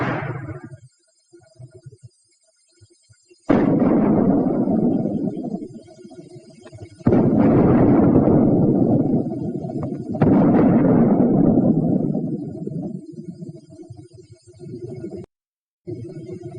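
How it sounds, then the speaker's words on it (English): A World War II mortar firing smoke shells, heard as several loud booming reports, each followed by a long rumbling decay, spaced a few seconds apart. "The mortar also fires smoke shell."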